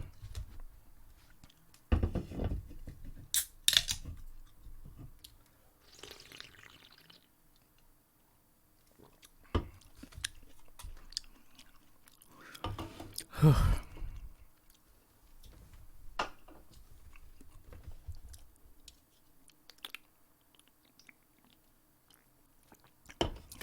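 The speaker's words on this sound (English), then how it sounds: "Excuse my slurping." Someone chews and slurps close up in scattered bursts, wet smacking and sipping sounds separated by quiet pauses.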